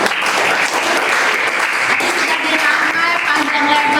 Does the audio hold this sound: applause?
yes